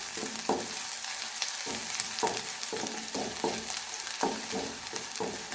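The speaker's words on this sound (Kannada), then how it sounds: "ಎಲ್ಲವನ್ನು ಫ್ರೈ ಮಾಡ್ಕೊಳ್ಬೇಕು." Garlic, onion and three chillies frying together in a pan for dried prawn chutney: an even sizzle broken by repeated rhythmic scrapes and knocks of a stirring spoon, close up and without speech.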